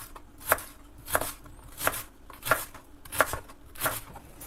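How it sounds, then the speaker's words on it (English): Knife chopping cabbage on a board for a tomato cabbage soup, a steady series of about seven crisp, close chops evenly spaced roughly every two-thirds of a second, with no one talking. "We chop the cabbage, just like it's chopped for borscht."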